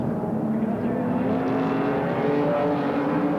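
A racing car at Mount Panorama, Bathurst, during a top ten shootout, engine droning loud and steady with a continuous high revving whine throughout, no break or fade.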